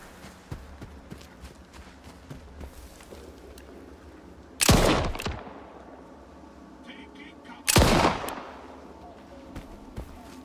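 Two loud, sharp sniper rifle shots ring out a few seconds apart in the video game S.T.A.L.K.E.R. 2: Heart of Chornobyl, each with a short echoing tail, over quiet ambient background with speech.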